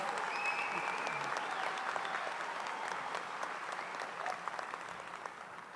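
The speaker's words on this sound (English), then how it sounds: "Let's just take a minute and clap for this wonderful class of 2028" Steady applause from a crowd at a medical school white coat ceremony, dense clapping that holds for several seconds and slowly tapers, with a few scattered louder claps.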